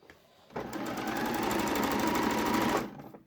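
Sewing machine running a seam that joins trousers to a bib, one continuous burst of fast, even stitching that starts abruptly, holds steady for about two seconds and then stops, heard up close and alone.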